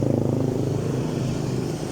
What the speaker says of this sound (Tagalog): Dami nagmumotor